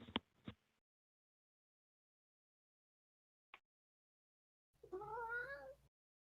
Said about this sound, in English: And a cat.